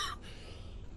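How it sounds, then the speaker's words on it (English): A single short cough from a person, close and fairly loud, lasting a fraction of a second and followed by a low background rumble. "he's coughing."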